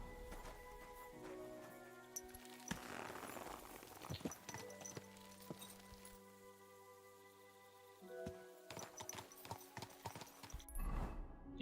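Horse hooves clip-clop at a walking pace in the video game Kingdom Come: Deliverance II, fairly quiet and steady amid soft ambient game sounds.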